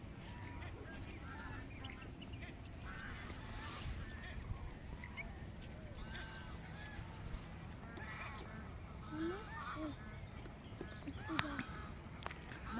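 Faint, distant honking and quacking from a flock of ducks at Nal Sarovar bird sanctuary, scattered calls over steady outdoor background noise.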